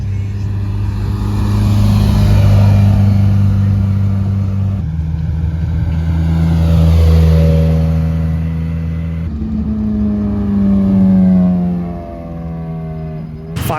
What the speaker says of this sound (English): All the cars are piling in now.